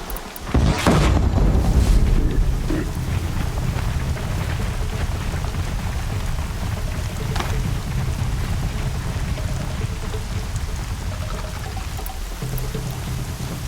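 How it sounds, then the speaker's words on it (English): Steady rainfall in the video game Horizon Zero Dawn, a continuous hiss of drops on surfaces with a heavier burst at the start and a few sharp splashes scattered through, without speech. "Raining"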